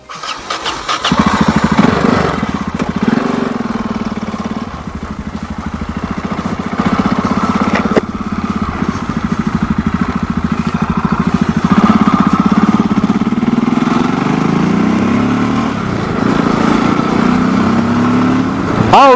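A Yamaha XT 660 Z single-cylinder motorcycle is ridden with its engine thumping steadily and loud throughout, the revs rising and falling with gear changes, close to the microphone and with no talk.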